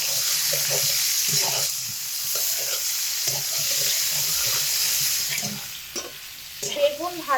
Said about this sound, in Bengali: বেগুনগুলো 3 মিনিট সময় ধরে হালকা টু মিডিয়াম আঁচে ভেজে নেব।